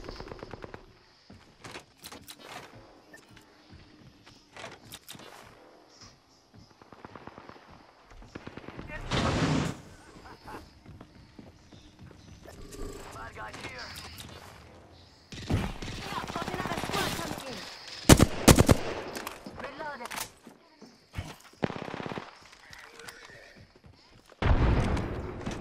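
Apex Legends match with rapid bursts of automatic gunfire and scattered single shots, some loud and close and others distant, broken by quiet gaps, while a player speaks over parts of the action.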